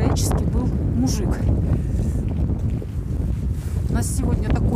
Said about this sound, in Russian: У нас сегодня такой холодный ветер,